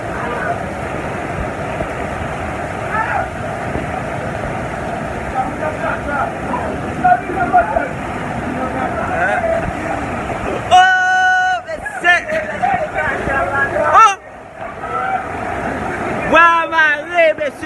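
Floodwater rushing through a street in Pétionville, a constant broad roar of moving water, with someone talking over it and a few sharp, brief noises near the end.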